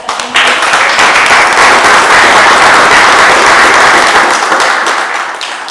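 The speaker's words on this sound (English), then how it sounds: "So big round of applause." An audience at a coffee and design talk breaks into applause, a dense, sustained wash of many hands clapping, loud and even before fading slightly at the end, with no talking.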